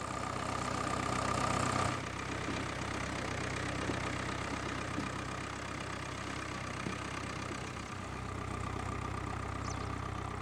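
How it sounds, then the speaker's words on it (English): A farm tractor engine runs steadily while ploughing up a field in rural Scotland, a continuous low mechanical drone with a brief louder start, no speech. "Later on, Alistair ploughs up a piece of land with his tractor in preparation for next year."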